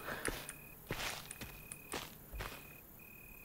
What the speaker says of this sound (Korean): 옆으로 걸으면 발소리가 내 발소리가 옆에서 들려